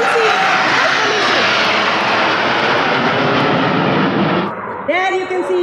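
A formation of Rafale jets roars past at an air force display, a loud sustained jet-engine rush that cuts off near the end as someone narrates over it.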